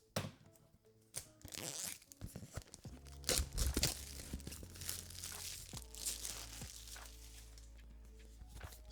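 A small cardboard box for a DJI Mic Mini wireless microphone opened by hand without scissors, with loud close crinkling, tearing and crunching of cardboard and packaging, irregular rustles and thumps, alone without talk.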